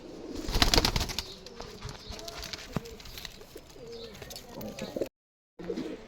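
Pigeons, including large red-tailed and local domestic breeds, coo in low, rounded phrases close by, with some rustling and a voice talking intermittently in the background.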